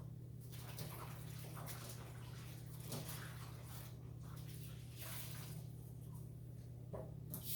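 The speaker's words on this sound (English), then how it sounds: "once I give my hands a quick" Hands being washed under a running kitchen tap during homemade veggie pizza prep, a steady broadband rush of water with faint splashes and patter, fairly close and continuous.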